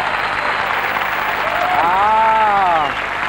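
Studio audience applause on a French quiz show set, a dense sustained clatter of clapping filling the room throughout, with a brief sung or whistled melodic line rising over it near the end.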